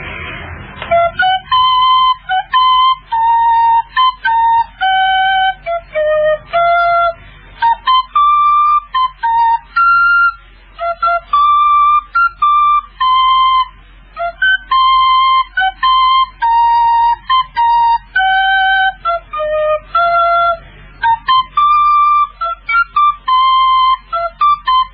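A person whistles a short tune alone, clear and steady, the melody moving through a run of bright sustained notes with brief breaks between phrases over a faint low hum.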